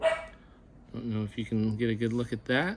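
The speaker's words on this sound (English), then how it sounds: "Apologize for the dogs barking in the background." Dogs bark in the background, with several sharp, repeated barks coming one after another while a person talks over them.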